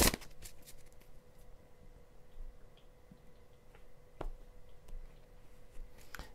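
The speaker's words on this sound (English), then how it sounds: "do the regular shuffle" Tarot cards being shuffled by hand in a regular overhand shuffle, soft papery riffles and flicks with a few sharper taps, close and quiet, with no talking.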